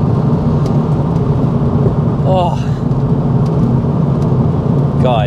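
A Mk2 Ford Focus RS fitted with a Mountune MR375 engine drives along with a steady, loud engine and road roar inside the cabin, while a man briefly exclaims over it.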